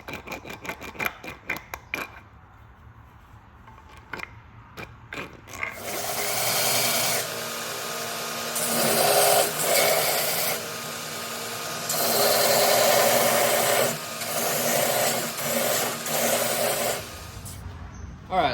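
A wooden axe handle top is ground down to rough shape with a power grinder, giving long sustained loud whining, rasping passes with brief pauses between them, after a few quieter clicks and knocks at the start.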